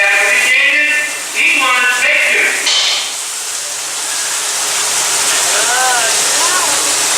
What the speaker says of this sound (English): This sudden shower is really just a special effect. We've rigged up a series of water nozzles just above your tram.